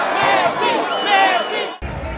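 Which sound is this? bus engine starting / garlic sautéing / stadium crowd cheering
stadium crowd cheering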